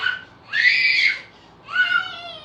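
A child screams and cries loudly and close by in two long, strained wails with a short whimpering gap between them, and no other voices are heard.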